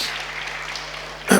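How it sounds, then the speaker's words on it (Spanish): A church congregation claps briefly, a soft wash of applause that fades slightly before a sharp louder burst at the end. "Un aplauso a Dios por la vida de Schneider."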